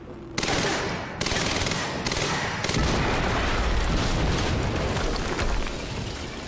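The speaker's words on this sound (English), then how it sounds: "HQ, we just heard an explosion near the harvesting perimeter" In the Quantum Break video game, a deep explosion sets off a dense roar of rumbling blasts and crackling debris that carries on for several seconds, loud and close, with no talk over it.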